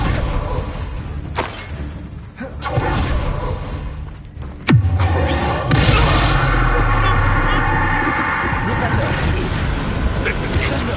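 Bombarda blasting spell cast in a Hogwarts wizarding video game: one sharp, loud explosive burst with a deep booming tail, followed by sustained rumbling game noise, with a voice speaking faintly before the blast.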